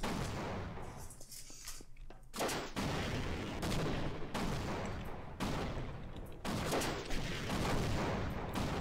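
Gunfire in Half-Life: Source: repeated bursts of shots in a dense, continuous barrage, closely spaced and fairly quiet, with no talk.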